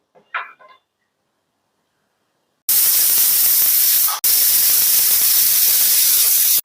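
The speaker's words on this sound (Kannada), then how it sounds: "ಕುಕ್ಕರ್ ಮುಚ್ಚಳ ಮುಚ್ಚಿ 3 ವಿಸಿಲು ಕೂಗಿಸ್ಕೊಳ್ಬೇಕು." A pressure cooker of rice whistles loudly, a sustained hissing jet of steam that cuts off briefly and then resumes, following a faint short clatter and a stretch of silence.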